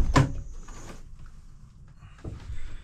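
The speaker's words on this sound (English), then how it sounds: "Let's open a back door," A back door opens with a sharp click and thump of the latch, followed by a softer creak and shuffle as it swings, close by in a quiet indoor space.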